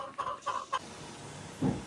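Backyard hens give several short, soft clucks in quick succession, then a single low cluck after a pause, heard faintly close by with no talk.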